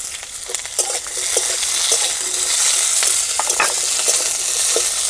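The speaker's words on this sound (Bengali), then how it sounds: "কাঁচা লঙ্কাটা একটু ভেজে নিয়েছি" Chopped green chili frying in oil with reddened potato pieces, a loud sizzle with frequent scraping stirs of a spatula against the pan, steady throughout.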